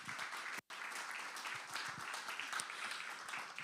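Audience applause at the Olbia literary award ceremony: a sustained, even patter of many hands clapping in a hall, with one very short dropout near the start.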